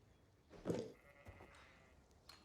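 A sheep bleats in Age of Empires, one clear wavering bleat up close followed by fainter game sounds and a small click, with no talk over it.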